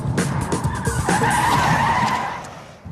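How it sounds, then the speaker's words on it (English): Car sliding through a 180-degree handbrake spin on a driving course, a sustained loud tire skid and screech with engine noise over about three seconds, tailing off at the end. "a 180-degree skidding forward turn"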